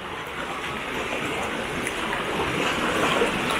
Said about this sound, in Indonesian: Ini ombaknya lagi tenang.